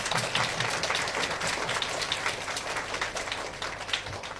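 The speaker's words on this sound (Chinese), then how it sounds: "我们再次给五位校友热烈的掌声" A university alumni entrepreneurship forum audience gives steady, warm applause to five alumni panelists, a continuous close patter of many hands with no talk.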